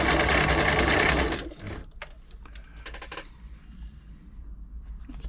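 A Singer 507 sewing machine, just fitted with replaced feed dog gears, runs a fast, loud, close burst of stitching for over a second, then stops, followed by a few quieter mechanical clicks and handling sounds.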